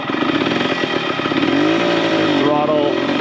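Engine of a 1996 Yamaha RT100 dirt bike, loud and close, idling roughly at first and then revving up with a rising, wavering pitch through a couple of throttle blips.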